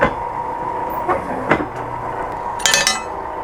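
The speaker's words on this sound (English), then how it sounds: "And now I gotta punch the holes in the angle iron." Workshop punch press with a 1/4 inch die punching holes in steel angle iron, giving a few sharp metallic clanks and a brighter rattling hit over steady machine hum.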